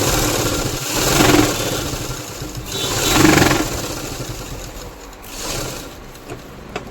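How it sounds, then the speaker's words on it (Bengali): A sewing machine runs press stitching along trouser pocket piping in three separate bursts, each swelling and fading, with quieter mechanical hum in between and no voices. "এবারে একটু চাপ সেলাই দিতে হবে।"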